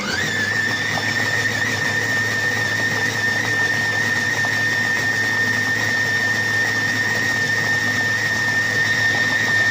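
A Compact Cook Pro food processor running steadily at speed 5 while chopping pomelo jam, with a constant high motor whine and hum that holds loud and even for the whole stretch.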